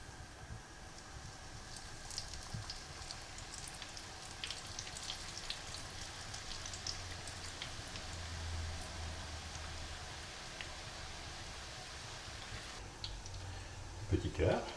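Fantaisie Mardi Gras pastries frying in hot oil in a pan, a steady soft sizzle and crackle running throughout at low level, with a faint clink near the end.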